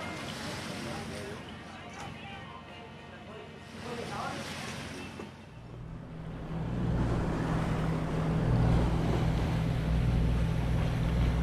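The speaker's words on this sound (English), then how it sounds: "Today we are sailing towards Boracay" A sailboat under way toward Boracay in the Philippines carries steady rushing wind and wash of waves, growing louder and fuller partway through.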